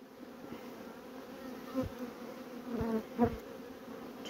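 Honey bees buzz at an opened beehive during spring hive expansion work, a soft continuous hum with a few louder individual bees passing close to the ear.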